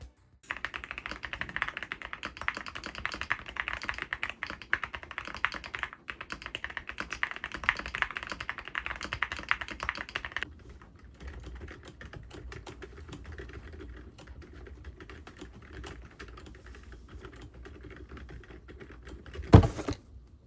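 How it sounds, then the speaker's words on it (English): Typing on a clicky mechanical keyboard, a fast, bright, steady clatter of close keystrokes, followed by quieter, duller typing on a silent mechanical keyboard, ending with a single louder thump. "I'm actually rotating between 2 keyboards. One clicky, one silent."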